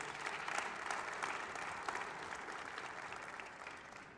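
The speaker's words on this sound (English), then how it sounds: "Yeah, we could applaud for that too." Audience applause at an advocacy award ceremony, a dense wash of clapping from a crowd in a room, strongest at the start and slowly tapering off over a few seconds.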